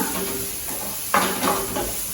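Steady close sizzle of sliced onions frying in hot oil, with a few stirring scrapes and clinks partway through.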